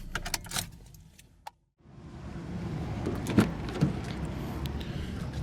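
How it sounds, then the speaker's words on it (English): Keys jangle briefly at the ignition of a 2017 Honda Civic LX with a 2.0 L four-cylinder as it is shut down; after a short near-silent gap, a steady low cabin hum follows, with a couple of small knocks. "let's go ahead and shut down the Civic"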